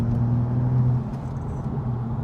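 BMW 135i engine under throttle from inside the car, a loud, steady low drone with a humming tone that holds fairly even, with no voices over it.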